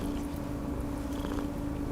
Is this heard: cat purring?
yes